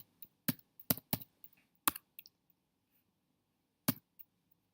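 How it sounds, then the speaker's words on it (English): Someone types a short word on a computer keyboard, a quick burst of crisp, close key clicks followed by a few scattered taps in a quiet room. "let's type Toronto."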